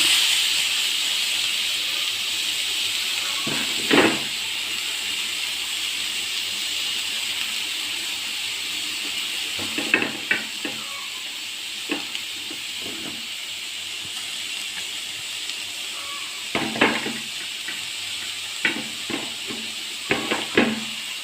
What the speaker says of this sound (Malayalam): വറ വറുത്ത നെയ്യിലേക്ക് ഞാൻ ഒരു ക്യാരറ്റ് ഉണ്ട് ക്യാരറ്റ് ഗ്രൈൻഡ് ചെയ്തതാണ് അതിട്ട് ഇട്ട് കൊടുക്കാം